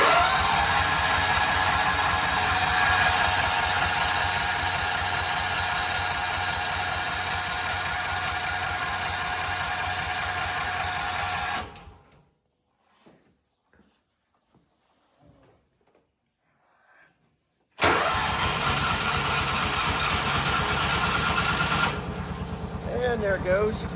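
A John Deere Gator's Kawasaki engine after a fuel filter change cranks and runs as a loud, steady close drone. It cuts to near silence for several seconds, then starts again and keeps running.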